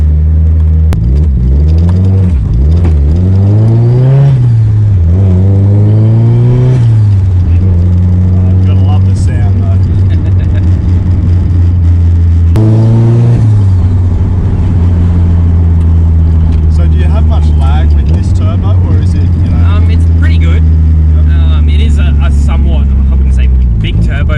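A Nissan Silvia 180SX built as a drift car, fitted with a TD06 turbo, revs hard in repeated loud, rising and falling engine sweeps, dropping to idle between pulls, with people talking in the background.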